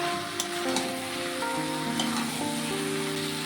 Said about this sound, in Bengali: মাশরুমটাকে আলুর সাথে খুব ভালোভাবে একটু রান্না করে নেব